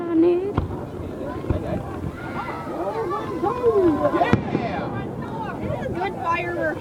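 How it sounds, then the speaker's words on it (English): Fireworks bursting over a park, with two sharp loud bangs standing out against a steady crackle and rumble while several people talk and chatter nearby throughout. "Good fireworks show."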